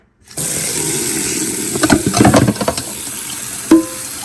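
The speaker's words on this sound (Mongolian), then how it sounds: "халуун ус гоожуулаад" Hot water runs from a tap onto frozen meat on a plate, a steady close splashing hiss with a louder burst of spattering midway and a brief clink near the end.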